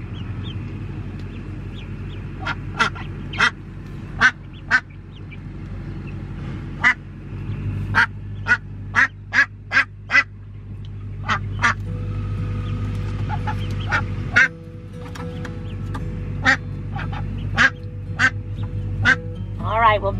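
Indian runner ducks give off a run of sharp, nasal quacks, single and in quick clusters, close and loud over a steady low hum, with newly hatched ducklings nearby.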